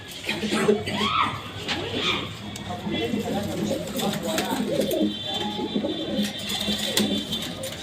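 Pigeons of the French Lahm and Qatawi breeds coo softly in a loft at night, low throaty calls layered with rustling and someone talking over them close by.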